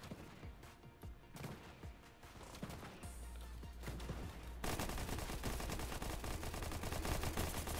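SMG gunfire in Fortnite, first scattered sharp shots and impacts, then a dense, loud sustained burst of rapid fire through the second half, with no speech.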